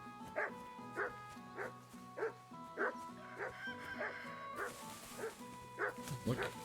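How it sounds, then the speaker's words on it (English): Mutt the dog in Kingdom Come: Deliverance 2 barks in a steady series of about a dozen short, evenly spaced woofs, close and clear over a faint ambient hum. "Sit and bark."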